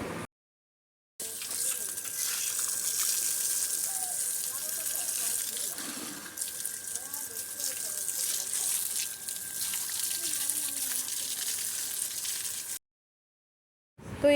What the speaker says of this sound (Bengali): যে বাসন হয়েছে আর কিছু কলপরাও ছিল তাই আমি ভাবছি এগুলো একবারে ধুয়ে নিয়ে যাই